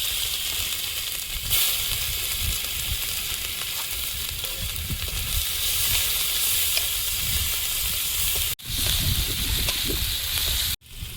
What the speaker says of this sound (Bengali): ওই তেলে, মাছ ভাজার তেলে তরকারিটা বসিয়ে দেবো